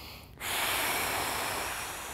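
A single long, forceful sniff draws air in through the nose, a close, steady hissing breath lasting under two seconds after a brief quiet moment.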